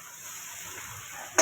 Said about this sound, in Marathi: तर मी तवा गरम करायला ठेवलेला आणि आपली पावभाजी आहे ती मी तव्यामध्ये टाकते.